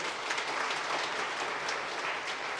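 A church congregation applauds during a Sunday service, a dense, even burst of many hands clapping that holds steady for a couple of seconds.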